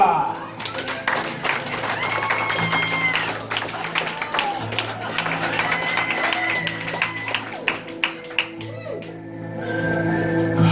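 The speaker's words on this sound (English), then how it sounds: "Ladies and gentlemen, big round of applause for Matilda!" Audience clapping at a comedy magic show, with scattered claps and cheering mixed among music and voices that continue throughout.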